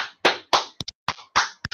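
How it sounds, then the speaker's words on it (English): One person's hands clap in a short uneven burst, a few loud close claps mixed with lighter quick taps and brief pauses. "Only one person clap."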